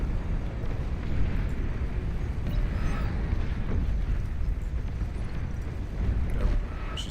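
A nuclear missile bursts in the air in the strategy game Beyond All Reason, giving a loud, sustained, rumbling explosion roar that stays dense and steady for several seconds, with no speech over it.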